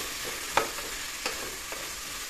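Fish and dhatta greens fry in a pan for an Assamese fish curry, a steady close sizzle punctuated by a few soft stirring scrapes.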